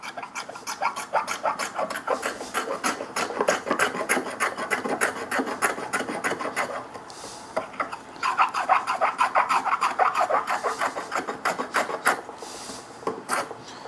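A hand plane shaves overlooked timber for a foot stool, producing repeated close rasping strokes in a steady back-and-forth rhythm with a brief pause midway and no talking.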